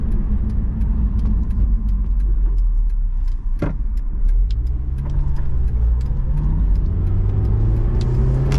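A Honda S2000 with about 31,000 miles runs loud and steady from the cabin, the engine note climbing gradually as the car accelerates, under constant road and wind noise.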